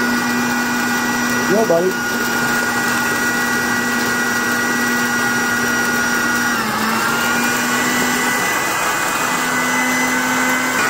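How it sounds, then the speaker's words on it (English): An electric grinder processing lumpy maple sugar gives a loud, steady motorized drone with a constant pitch for the whole stretch, and a voice speaks briefly over it. "Now you've been trained on the grinder switch."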